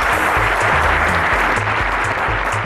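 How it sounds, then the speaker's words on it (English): A studio audience gives a sustained round of applause on a televised quiz show as eliminated contestants leave, loud and dense over a pulsing low music cue. "But we'll have to give you a round of applause as you go."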